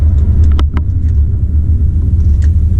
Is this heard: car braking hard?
yes